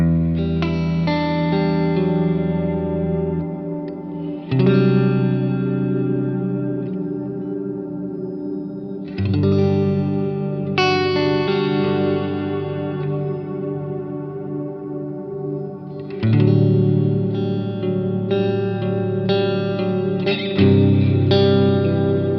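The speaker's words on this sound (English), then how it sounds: "This is actually a very mellow and warm pad underneath." Mellow, warm synth pad from Cornerstone NUCLEO with reverb, sustained rich chords that shift every few seconds and swell into lush tails, played alone without voices.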